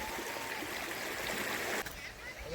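A mountain river in Kumaon, Uttarakhand, flowing steadily, heard as a broad, continuous rushing wash that fills the short clip and eases slightly toward the end.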